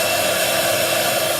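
Heat tool blowing hot air to dry colour on a papercraft project, a steady, close whooshing fan hum with no talk over it.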